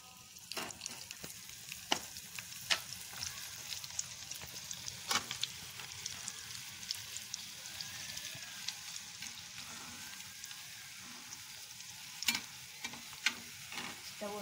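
Cashews fry in a pan for ration rice biryani, giving a faint, steady sizzle broken by sharp clicks and scrapes of stirring at irregular moments.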